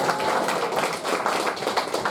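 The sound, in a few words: applause for the commander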